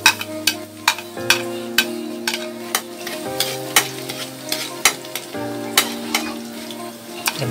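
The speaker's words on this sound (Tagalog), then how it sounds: "So, unahin natin gisahin ang ating bawang." Garlic sautéing in a pan for a Filipino string bean and squash dish: a steady sizzle broken by regular, sharp strikes of a utensil stirring and scraping, with background music playing throughout.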